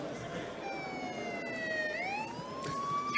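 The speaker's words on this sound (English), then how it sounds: "you can hear a siren in the background." An emergency vehicle siren wails faintly in the background of a legislative roll-call vote, its tone sweeping down and then up again, distant and steady, with low room noise around it.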